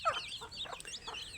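Free-range desi chickens clucking, a few soft, repeated clucks close by over a faint outdoor background, with no speech.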